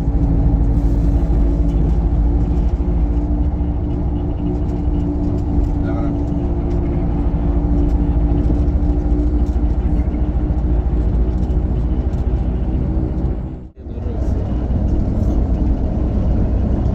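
A Hino RN8 bus cruising fast on the road from Kurigram to Dhaka, heard from inside as a loud, steady low engine and road rumble, with one brief dip near the end.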